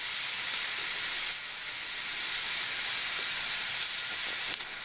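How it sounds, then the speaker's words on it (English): Pork tenderloin sears in a hot pan, giving a continuous broadband hiss of sizzling fat that stays even and close, with a couple of brief shifts in texture and no talking. "I'm going to finish up searing all my sides"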